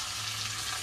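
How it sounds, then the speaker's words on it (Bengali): Pond fish sizzles steadily in a hot pan, a dense continuous frying hiss filling the short moment at close range, with no voices. "এই মাছটা এখন ভাজা করছে"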